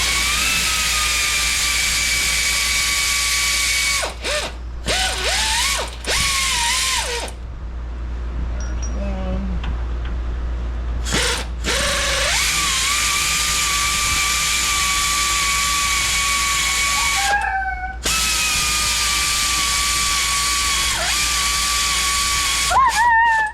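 A power wrench whines in long, loud bursts while removing nuts from the suspension of a 1992 Toyota being lowered, near the sway bar linkage, with short pauses and a quieter gap between runs.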